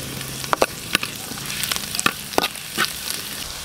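Garlic and onion frying in a pan for bola bola soup, a steady close sizzle with scattered sharp crackles and pops as the aromatics are stirred.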